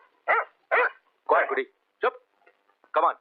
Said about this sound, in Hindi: तेरा कुत्ता रो रहा है।